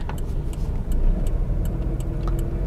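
Engine of a Mercedes-Benz A-Class 1.4 petrol revving past 3000 RPM, a steady, loud drone heard from inside the car with faint rhythmic ticking over it.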